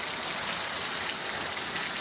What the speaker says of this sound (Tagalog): ulan yan, oh